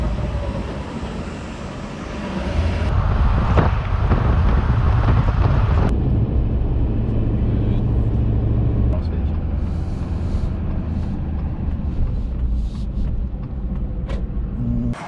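Cab interior of a moving pickup truck on the road, a steady low engine and road rumble with wind noise throughout, and people talking over it.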